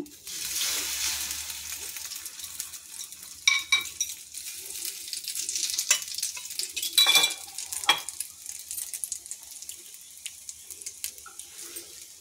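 Egg-coated bread slices frying in a pan for French toast, a steady close sizzle with a few brief clinks and scrapes throughout.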